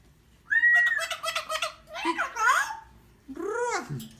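A small bird calls in an Amazon setting with a run of loud, close, whistling chirps and squawky sweeping cries, coming in several bursts over a few seconds.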